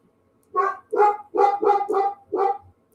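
A pet dog barks six times in a steady run, fairly loud and near, in an indoor room with no speech.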